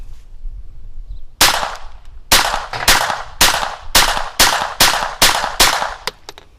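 Gunshots from a Ruger Mark III 22/45 semi-automatic pistol firing CCI Quiet .22 ammunition outdoors: about nine sharp, close cracks fired at an uneven pace with brief gaps, each with a quick decay, plus a couple of faint clicks at the end.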